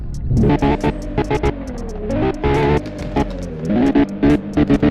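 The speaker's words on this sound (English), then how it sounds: "Pretty cool aggressive rev sound," A car engine revs hard in rapid bursts, growling and throbbing, with gaps between blips, loud and close, in the video game Realistic Car Driving.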